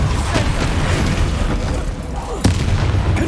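A Depulso force spell is cast in Hogwarts Legacy, landing as a dull boom with a sharp burst midway through, over a dense rumbling backdrop of combat noise.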